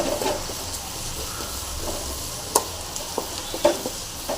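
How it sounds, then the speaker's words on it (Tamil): Onions fry for thandu keerai kootu, a Tamil amaranth-stem dish, with a steady soft sizzle and hiss. Occasional light scraping clicks of a spoon against the pan come through near and moderately loud. "நல்லா ஃப்ரை ஆகட்டும் நல்லா ஃப்ரை ஆகிடுச்சு வெங்காயம்"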